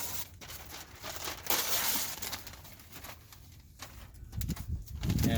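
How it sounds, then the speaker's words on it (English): Close, loud crinkling and crunching of paper being crumpled in irregular bursts. "crumple it up into these loose balls."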